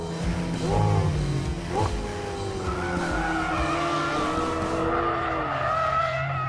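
A McLaren 720S drifts with tires squealing in long, wavering screeches over a loud engine roar, close and sustained throughout.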